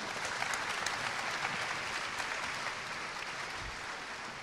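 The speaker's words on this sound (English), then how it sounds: "let's give our VC and Dealmaker panelists a round of applause" Even, sustained applause from a conference audience for venture capital panelists at a Hong Kong event, a steady wash of many hands clapping, a little distant, with no talk over it.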